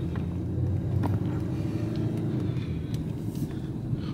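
A car driving slowly along a neighborhood street, heard from inside as a steady low engine and road rumble that stays constant, with a few faint clicks and rattles over it and no talking.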